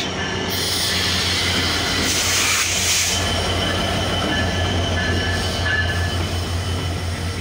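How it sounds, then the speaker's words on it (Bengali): A loud intercity express train, the down Titumir Express, rumbling steadily as it pulls into Saidpur station on a rainy day, with wheel squeal rising over a constant low drone. "আন্তনগর ডাউন তিতুমির এক্সপ্রেস ট্রেনটি বর্তমানে সৈয়দপুর রেলওয়ে স্টেশন ইন করলো"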